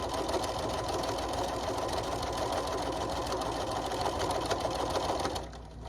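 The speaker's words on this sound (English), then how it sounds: "I'm just sewing this all the way down." A sewing machine runs steadily, stitching interfacing into a trick-or-treat bag, with a continuous close whirring hum that stops abruptly just before the end.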